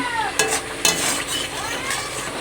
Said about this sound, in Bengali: এই যে ভালো করে কষিয়ে নিচ্ছি